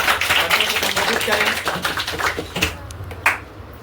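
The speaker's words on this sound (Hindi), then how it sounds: "एक बार मोनू भैया के लिए जोरदार तालियां हो जाए" Students clap loudly at a Class 10 success celebration for Monu bhaiya, a busy ripple of close applause that thins out toward the end.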